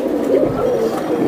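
Pigeons of a fancy pangkhi breed cooing close by in a loud, continuous burst of low throaty calls, with no talk over them.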